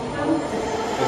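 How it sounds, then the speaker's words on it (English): Thameslink train at a platform in London St Pancras station, giving a loud continuous rumbling drone with a hint of wheel squeal, close by and alone. "This is one train going to West Hampstead."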